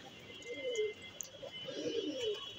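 Madrasi pigeons coo softly nearby in two drawn-out, throaty bursts, with a faint steady background hum.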